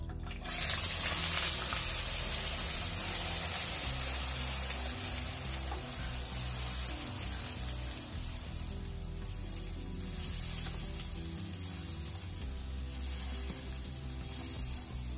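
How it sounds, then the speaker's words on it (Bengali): Sliced onion drops into hot oil in a kadai already seasoned with bay leaf, cinnamon, star anise and black cardamom, giving a loud continuous sizzle and crackle close up that holds steady throughout with no voices. "পেঁয়াজটা ঢেলে দেবো কড়াইতে।"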